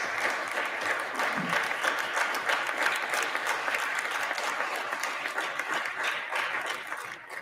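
Sustained applause from an audience, steady and fairly loud throughout with dense overlapping claps and no talk over it.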